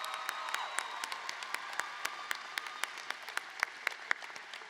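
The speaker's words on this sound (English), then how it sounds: "let's give Erin another round of applause" Audience applause at a graduation ceremony, a steady wash of many hands clapping across the hall with a few sharper, louder claps standing out, no talk over it.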